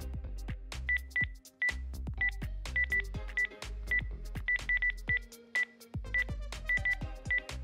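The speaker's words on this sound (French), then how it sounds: "Je compose le numéro?" Telephone keypad tones dial a number in quick, irregular bursts of short beeps, heard clearly and close, with short pauses between the groups of digits.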